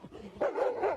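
A small dog gives a quick high yip and then a short sharper bark, close and moderately loud, lasting about a second.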